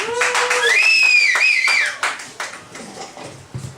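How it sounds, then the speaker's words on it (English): A live audience at a comedy event in the Tabernacle claps, with a rising whoop or whistle over sustained applause that fades into scattered claps near the end. "Give her a round of applause."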